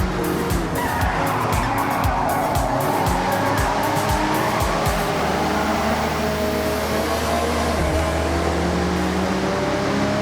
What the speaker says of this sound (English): Drifters like to induce oversteer and send it all the way around.